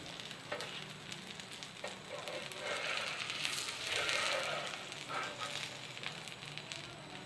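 An egg fries in ghee in a pan with a soft, steady sizzle and light crackle that swells briefly in the middle, quiet and close with no talking.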